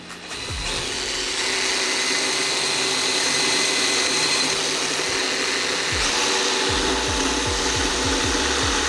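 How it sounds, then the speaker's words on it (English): A power drill bores a pilot hole in a car part during a custom car build. It whirs up after a second into a loud, steady close-up whine that holds to the end, with a few low knocks underneath. "we'll go ahead and make a pilot hole here"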